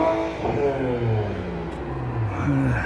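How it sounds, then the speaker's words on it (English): Cars rev their engines near the beach at South Shields by the mouth of the River Tyne, with engine tones rising and falling in long sweeps, a steady rumble heard from moderate distance throughout. "The local idiots revving the cars up, scrubbing the tyres up."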